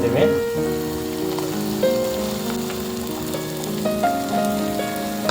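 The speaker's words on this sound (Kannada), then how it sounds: "ಈಗ ಇದೊಂದು ಎರಡು ನಿಮಿಷ ಫ್ರೈ ಫ್ರೈ ಮಾಡ್ಕೊಂಡ್ರಿ" Onions frying in a hot pan, a steady bright sizzle that holds for several seconds and swells briefly as they are stirred, close and clear with no talking.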